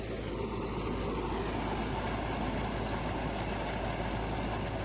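A Mahindra Yuvo Tech Plus 575 4WD tractor runs a rotavator at 1600 rpm in low first gear, giving a loud, steady engine drone with churning rumble that holds constant throughout.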